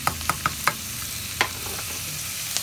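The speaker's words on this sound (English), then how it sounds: "I'm just going to cook that until the ground beef" Ground beef seasoned with salt and cayenne pepper frying in a pan, with a steady soft sizzle under several sharp stirring scrapes and clacks near the start and a few more later, fairly close.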